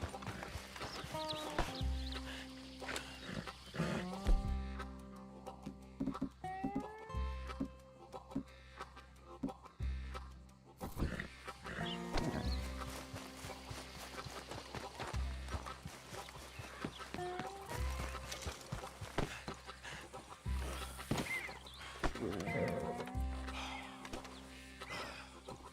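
Horse hooves clip-clop in Red Dead Redemption 2, a steady walking beat of soft thuds under a busy layer of game music and ambience, with occasional snorting and no talk.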